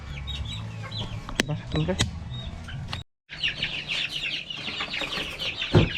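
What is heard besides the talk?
one-month-old chicks cheeping and clucking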